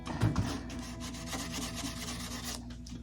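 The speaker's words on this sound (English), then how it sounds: "A little polishing on the edge of that." Edge of a handmade blues guitar body being polished during the build, a steady close rubbing and rasping that runs continuously with slight surges in intensity.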